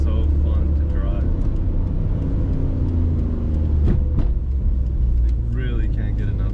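A Mitsubishi Evo IV cruises along with a steady, loud engine and road drone heard from inside the cabin, and someone talks briefly over the rumble.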